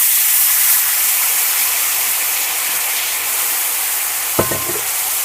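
White wine poured into a hot pan of cooked flour sizzles with a loud, steady hiss that fills the whole stretch, broken late by a brief clink of a utensil against the pan.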